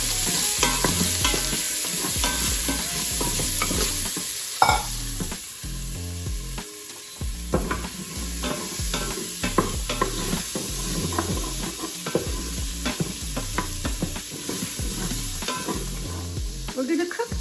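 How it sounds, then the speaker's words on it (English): Onions sizzle and crackle in hot oil, a loud continuous frying hiss broken by repeated scraping and stirring sounds. "And again, you can hear that sizzle."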